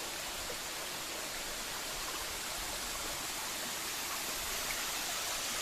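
Steady, broadband rush of the Moormans River flowing down into its lower section in Shenandoah National Park, close and continuous with no pauses.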